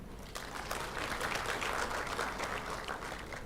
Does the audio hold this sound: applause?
yes